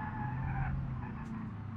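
A car in the driving game BeamNG.drive brakes and skids, giving a continuous dense tire scrub over a low engine rumble, steady and fairly close for under two seconds.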